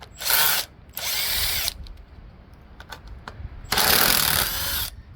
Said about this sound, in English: let's get rid of these old clearance lights. They're held in place by 5/16 self-tapping screws.